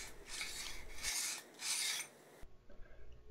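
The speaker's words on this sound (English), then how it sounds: "We are going to run a smithing file lightly through the rail slots to remove any machining burrs." A small smithing file is drawn lightly through the rail slots of a 1911 pistol frame to remove machining burrs: three close, dry rasping strokes, each about half a second long, in an otherwise quiet room.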